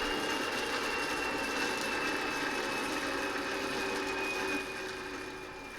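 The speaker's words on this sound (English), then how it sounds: "Check out how useful the flywheel is, how long it continues with a small load." A hand-spun flywheel on a brushless outrunner motor used as a generator with a three-phase rectifier whirs in a steady high whine that holds, then drops slightly in level near the end as it coasts under a small load.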